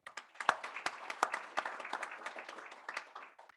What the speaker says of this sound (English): I would want to invite us to just have a clap gratitude towards the researchers